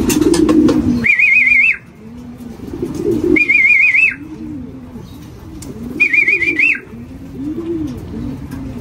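Pigeons coo in a courtyard loft, three drawn-out warbling calls rising and falling at a steady pace, close and clear over a bed of softer murmuring coos and faint chirps.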